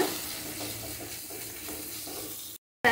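Chickpeas and onions frying in a pan make a steady, fairly quiet sizzle with faint stirring scrapes throughout, then the sound cuts off abruptly near the end.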